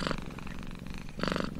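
A domestic pet cat purring up close, a low rumbling purr that pulses in rhythmic cycles of inhale and exhale, steady and fairly soft.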